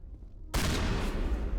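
A shotgun blast erupts in Mass Effect 1 Legendary Edition after a quiet half second, loud and close, with a broad noisy tail.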